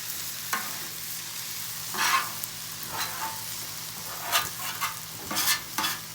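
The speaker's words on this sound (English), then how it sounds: "Get some of that good stuff right there off that grill. So just scrape it out." A metal scraping tool works beef fried rice across a hot grill, giving a series of scraping, sizzling strokes at irregular intervals against a steady frying hiss, close and moderately loud.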